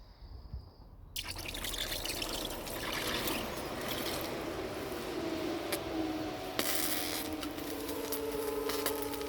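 A steady hissing, trickling wash of sound after a quiet start as molten metal streams and sizzles into a mold, continuous and fairly close.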